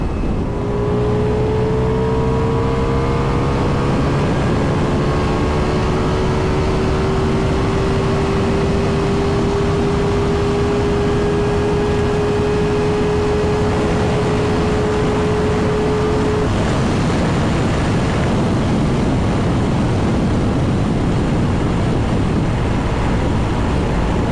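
A Ducati Multistrada V4S motorcycle loaded with panniers and luggage runs flat out at top speed, its engine holding a steady high whine under loud, constant wind roar before the pitch drops away late on.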